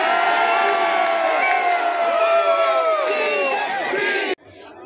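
A large rally crowd chants and shouts in unison during a political speech, a dense, loud, continuous roar of voices lasting several seconds before cutting off abruptly near the end.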